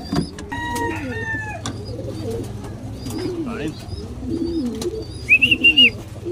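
Several pigeons coo softly nearby while feeding, in repeated low rounded calls, with occasional chirps and bird calls and a brief bright squeak toward the end.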